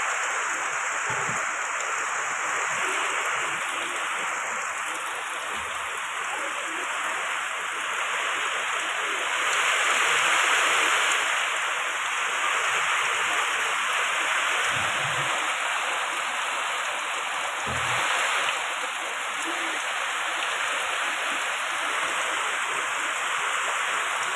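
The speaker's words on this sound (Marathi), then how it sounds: "काय जबरदस्त पाऊस चालू आहे पाहिलं का." Heavy rain pours down in a dense, steady hiss that holds loud and unbroken throughout, with a few faint low thumps scattered beneath it.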